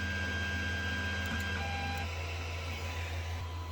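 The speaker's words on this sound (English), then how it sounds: "Press auto home here. And once it's down in that corner" A Creality CR-10 3D printer moves to its auto-home position with a steady, close motor hum and faint tonal whines that shift pitch partway through.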